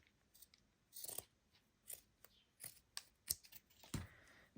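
Scissors cut black lace in a series of faint, close, irregular snips and crisp crunches, separated by quiet pauses.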